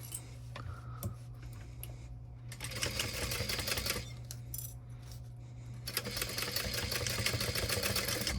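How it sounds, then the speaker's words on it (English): A sewing machine stitching fabric pieces onto a dragon-themed pack, two bursts of rapid mechanical needle chatter separated by a quieter pause with small clicks, close and moderately loud, a low hum underneath. "All right, we'll sew these ones on."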